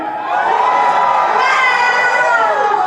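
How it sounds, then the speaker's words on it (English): A rally crowd outside NSW Parliament House in Sydney cheers and whoops loudly, many voices rising together in a sustained roar after a short quiet start. "Put your hand up and cheer if this is your first rally"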